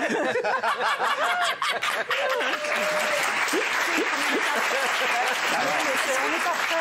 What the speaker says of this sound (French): Vous savez pourquoi vous m'applaudissez pour ça?